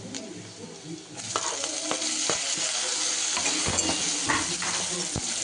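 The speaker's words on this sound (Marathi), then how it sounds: "आता मी टमाटर टाकते." Tomatoes dropped into a hot frying pan while cooking a shepu bhaji, setting off a loud, steady sizzle with stirring clatter and scraping close by.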